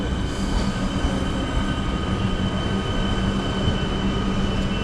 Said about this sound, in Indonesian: Jadi kita akan naik ke kereta ke Frankston nih